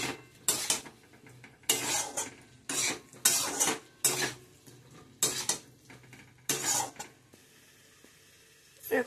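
A utensil scrapes and clatters against a cooking pan as fried banana and potato are stirred, in irregular bursts of metallic scraping separated by short pauses, close and fairly loud.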